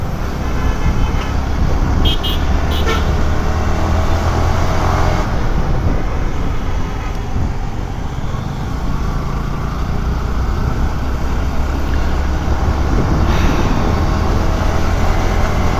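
Dense road traffic at a signal near Bijoy Sarani, a loud, constant roar of engines with a couple of brief horn toots near the start and another later, heard from close in the flow.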